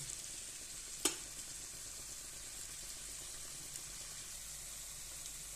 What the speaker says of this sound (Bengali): কলিজাটা দিয়ে আমি চামচ দিয়ে ভালো করে বাইরে নিতেছি